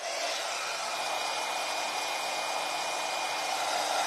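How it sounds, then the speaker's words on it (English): A heat gun blows hot air in a close, loud, unbroken whooshing hiss, like a hair dryer, steady for the few seconds it runs while puffing metallic paste on a wooden box, with no talk. "We're going to use our heat gun or heat tool."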